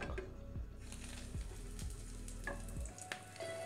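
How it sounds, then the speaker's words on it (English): Fish cakes crackle and sizzle steadily in very hot oil in a frying pan, with a few sharper pops and clinks of handling near the end; no one speaks. "Important to have the oil to be hot so that it's sealing the cakes straight away."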